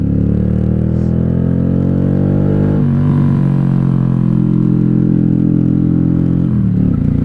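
A 1995 Honda Shadow VLX 600 (VT600CD) V-twin rumbles loudly from the rider's seat, revs climbing, dropping briefly at a gear change, then climbing again and dipping once more near the end.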